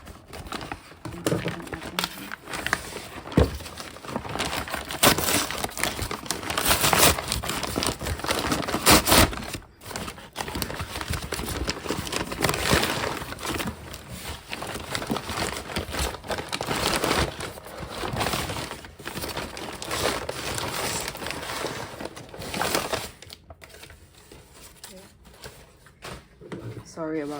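Unboxing a package of Karin Brushmarker PRO markers: near, continuous rustling, crinkling and handling of packaging with clicks and thumps, talk running over much of it.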